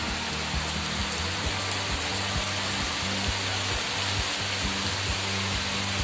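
Heavy rain pours down outside a home, a dense, steady broadband hiss with no talk, loud and even throughout.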